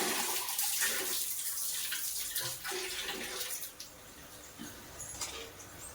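Water bubbles and churns steadily at a gentle, constant level, with small splashy pops throughout and no voices.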